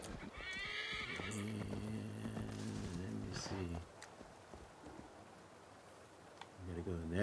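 A horse whinnies loudly twice, with hooves clip-clopping in between, from the video game Assassin's Creed, up close; a voice speaks briefly under the sounds.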